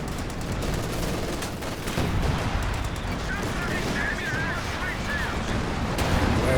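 Tank battle in a World War II real-time strategy video game, with a Panzer IV pushing against a Centaur: a dense, continuous barrage of cannon and gunfire bursts and explosions fills the whole span at steady loudness.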